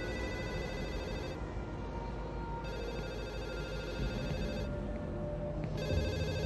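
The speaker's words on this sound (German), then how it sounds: "Achso, da ist das Telefon." A telephone rings in the video game Ebola 2, a steady electronic ring that keeps pulsing for several seconds at an even level, with no voices over it.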